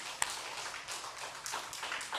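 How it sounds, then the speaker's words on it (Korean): A church congregation claps together during a Sunday worship service, a soft, dense patter of many hands that carries on evenly for a couple of seconds and sounds fairly distant. "하나님께 영광의 박수 올리겠습니다."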